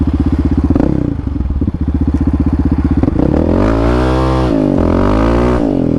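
A Yamaha Raptor 700 ATV with a freshly flashed ECU revs hard and close, its engine pulsing rapidly, then shifting up with a steady, rising drone that climbs again as it accelerates.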